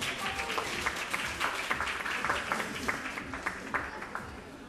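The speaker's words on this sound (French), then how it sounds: "On peut les applaudir très fort" An audience at a long-running village festival gives warm applause for the volunteers, a steady, moderately distant patter of many hands clapping with a few louder claps poking through.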